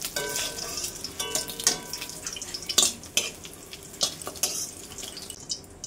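Fish frying in hot oil, a soft crackling sizzle broken by sharp spatters and a few utensil clinks and scrapes, fairly quiet and close, with no talking.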